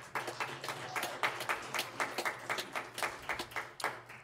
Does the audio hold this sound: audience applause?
yes